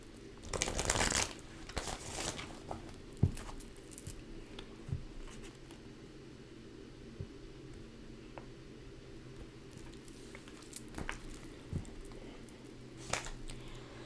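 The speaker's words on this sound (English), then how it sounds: "One more shuffle." A deck of tarot cards being shuffled: a strong riffle at the start, then sparse soft taps and rustles scattered across a quiet stretch, with another brief flurry near the end.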